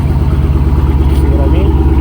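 A 2011 Dodge Charger engine starts and settles into a steady idle, a loud, continuous low rumble held close by, with people talking alongside it.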